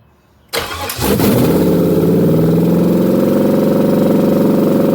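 A fuel-injected yellow box Chevy fires up after a quiet pause, with a brief crank, then the engine catching and settling into a loud, steady, high idle close by.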